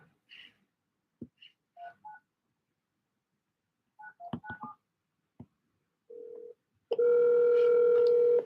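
Telephone keypad tones dialed one after another in short, uneven bursts while placing a commercial real estate cold call, followed by a steady, louder tone that holds to the end. No one speaks.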